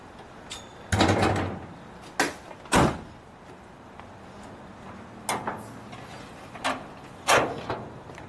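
Hood of a red 1974 Triumph TR6 convertible being released and opened, a series of sharp metallic clunks and latch knocks with quiet pauses between, close by.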